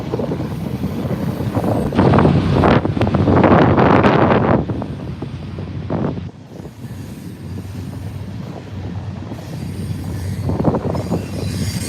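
A long train rolls past near a waterfront pathway, continuous clattering rumble of railcars with louder surges early on and steady wheel noise throughout, fairly close.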